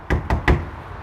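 Three sharp knocks rap on a house's front door in quick succession, close and loud, followed by a quiet room.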